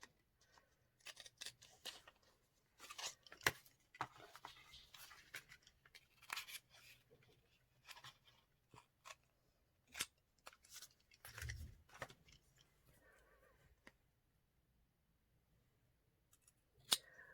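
Scissors cutting a paper rosette shape, heard as quiet, close snips and crisp paper rustles in irregular bursts, with short pauses between cuts and a faint bump partway through.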